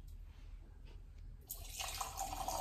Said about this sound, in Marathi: मी आता थोडस पाणी घालणार याच्यामध्ये. या घटामध्ये पाणी घालायचं मस्त.